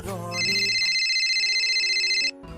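A mobile phone rings with a bright electronic ringtone, a single sustained tone pattern lasting about two seconds, loud and close, with a brief murmur of voice before and after.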